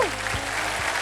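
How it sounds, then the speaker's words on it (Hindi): Studio audience applause on the Wheel of Fortune game show, a dense steady wash of clapping from a large crowd, loud and continuous across the moment with no voices over it. "जोरदार तालियां मेरे लिए"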